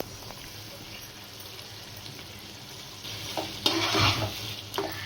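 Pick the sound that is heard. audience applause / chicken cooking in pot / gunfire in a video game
chicken cooking in pot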